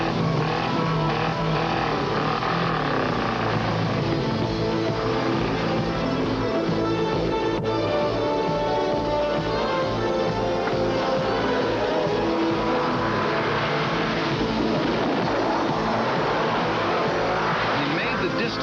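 A race car engine roars and revs in long, loud bursts as it readies for an alpine automobile ski jump, with someone narrating over it throughout.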